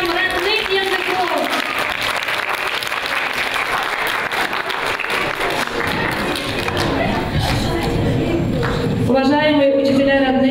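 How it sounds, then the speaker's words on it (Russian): Audience applause for native language teachers called onto a stage at a celebration, with a loud crowd clapping under a presenter's amplified voice, followed by music rising at the end. "Аплодисменты нашим учителям родных языков."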